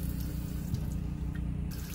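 Steady water stream running from an RV faucet fed by the water pump, a continuous even rush with no surging, close and fairly loud throughout.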